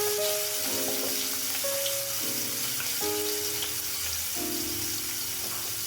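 Spiced pomfret fish pieces frying in hot mustard oil in a pan give off a steady, loud, dense sizzle that runs continuously, with no one speaking.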